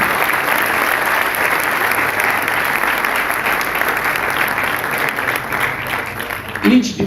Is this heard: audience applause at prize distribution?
yes